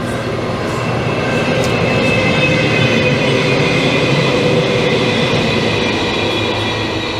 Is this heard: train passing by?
yes